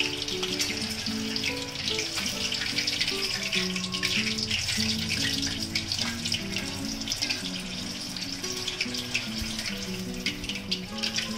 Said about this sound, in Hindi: हल्के आंच पे इसको हल्का सा फ्राई कर लीजिए।